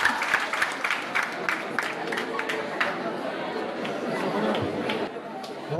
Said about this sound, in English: We clap for her, please.